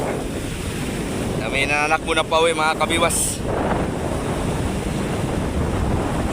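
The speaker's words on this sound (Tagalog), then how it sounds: "Malakas ang hangin." Strong wind roars across the microphone over crashing surf, while someone briefly speaks partway through.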